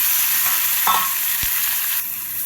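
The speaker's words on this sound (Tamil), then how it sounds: "எல்லாம் ஒன்று சேர்கிற மாதிரி நல்லா வதக்க ஆரம்பிக்கலாம் எண்ணெயில் வதங்கும் போது இந்த வாழைக்காய் நல்லா வெந் வெந்துருங்க" Spiced raw plantain masala fries in oil while being stirred, giving a continuous loud close hiss and sizzle with faint scraping from the spoon, and no voices.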